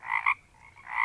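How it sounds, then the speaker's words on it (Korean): Frogs croak in loud, close, rasping bursts, two quick calls followed by a pause and then another, with no voices present. "개구리가 막 울더라는 거야"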